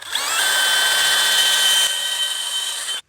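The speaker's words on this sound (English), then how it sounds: "Now drill a 13mm hole, that's about 1/2 inch, at your mark at a slight angle" Power drill boring a 13mm hole at a slight angle into a timber post: a loud, steady high whine that runs for about two seconds, eases slightly, then cuts off.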